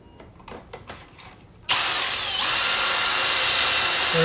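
A few faint clicks and handling noises, then a power drill whirs up suddenly and runs loud and steady, its pitch holding as it bores pocket holes into a wooden gate frame.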